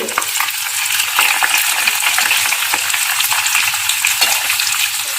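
Coconut oil frying with nochi leaves in a pan to make hair oil, a loud, close, crackling sizzle with intermittent stirring scrapes, continuing throughout with no voices.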